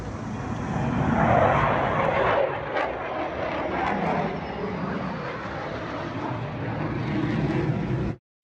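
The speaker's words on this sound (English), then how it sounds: "Trump had 4 F-16s and 4 more F-35s conduct a flyover for the new president of Poland." A flyover by four F-16 and four F-35 fighter jets honoring Poland's new president, a loud, sustained roar of jet engines that swells and rolls steadily overhead for several seconds before cutting off abruptly.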